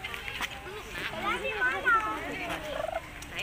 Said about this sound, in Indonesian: Ini banyak burung.